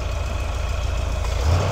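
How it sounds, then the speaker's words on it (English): A 1973 Ford Econoline van's 302 roller-cam 5.0 engine idles with a steady, low rumble, a faint metallic rattle from the door latches running through it, close up and continuous. "It's a little rattly. What you're hearing there is the little door latches,"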